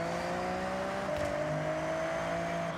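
A car with its stock engine running in Forza Horizon, a steady close engine drone with a slowly rising pitch as it revs, alone without speech.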